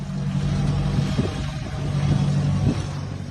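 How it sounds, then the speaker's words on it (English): A tractor engine driven on a long road trip from Nebraska to Alaska runs steadily, a low continuous drone with a little throttle variation, loud and close, with no talking. "they're traveling from Nebraska to Alaska on a tractor"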